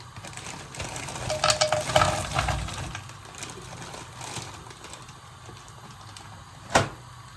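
Soft sizzling and crackling from potatoes frying in a pan, with scraping and clattering of utensils and a sharp knock near the end.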